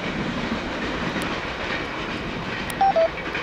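A southbound CSX Q141-22 freight train of intermodal cars passes close by, a steady loud rolling rumble with clicking wheels, broken near the end by two short horn-like tones.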